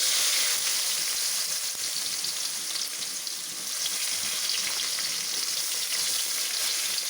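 Ginger and garlic frying in oil for a Kerala-style kadumanga (mango) pickle, a dense, steady sizzle that runs loud and close throughout with no voices.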